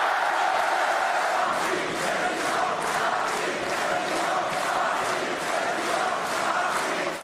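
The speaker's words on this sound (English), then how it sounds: "Le Pen got a rousing response to a speech from the crowd" Crowd at a Marine Le Pen political rally in France cheering and shouting in response to her speech, a loud, sustained roar with rhythmic chant-like pulses and no clear talk over it.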